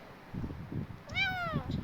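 A hungry kitten out in the rain gives one clear, rising-and-falling meow near the end, close and distinct over a low, muffled background patter.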